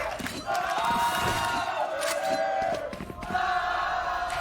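A large arena crowd at the Valorant grand finals between LOUD and NRG roars with sustained cheering and rhythmic chanting, loud and continuous throughout, with faint voices mixed in.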